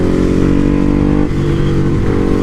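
A Ducati Hypermotard SP motorcycle fitted with an aftermarket exhaust revs loud and close, a dense low engine roar held steady with a brief dip midway before climbing again.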